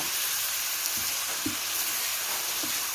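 Shrimp stir-fry in a hot pan, giving a dense, constant sizzle with a few soft scraping stirs, close and loud with nobody speaking.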